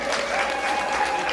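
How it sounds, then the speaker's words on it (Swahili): A crowd at a send-off claps for the elders, a loud, dense burst of applause from many hands, steady for the whole short stretch. "Jamani, makofi kwa wazee hawa."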